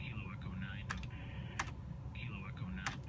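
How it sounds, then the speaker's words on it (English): Computer keyboard keys pressed at a radio operator's PowerSDR station, a few crisp separate clicks over a steady hum and faint tonal background noise. "if I want to hit the enter key on the keyboard"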